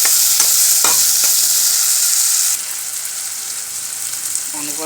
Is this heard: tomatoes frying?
yes